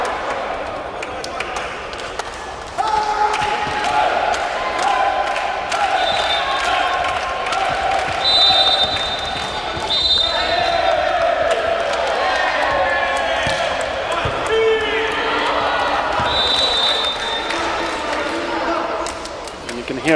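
Polish volleyball fans cheer from behind the court at a Poland versus Ukraine women's match, a steady roar of crowd chanting and whistles at mid distance with a commentator talking over it throughout.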